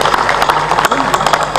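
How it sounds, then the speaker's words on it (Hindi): Applause from a crowd at a devotional satsang gathering in an ashram, a dense, steady patter of clapping throughout the short stretch, with voices mixed in. "ताली बजा दो"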